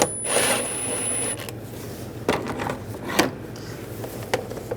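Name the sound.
loosening worm clamp with 8 millimeter socket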